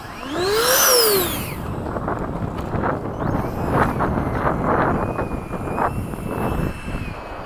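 A Habu 32 electric ducted fan RC jet makes a steady, loud whooshing whine as it flies past, with a rising and falling pitch sweep early on and wind noise throughout, heard outdoors with no one talking.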